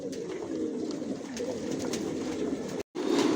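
Racing pigeons in a loft coo steadily in a low, continuous murmur of several birds close by, with a few sharper wing or foot sounds, a brief gap, then the cooing resumes.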